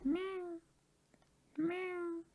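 Two drawn-out game cat meows from Old School RuneScape, clear and close, separated by a short quiet gap.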